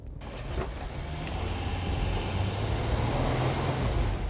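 A Toyota Land Cruiser 300 drives off road, its engine and tyre noise a steady broad rumble that swells slightly and holds, heard from inside at moderate level with no talk.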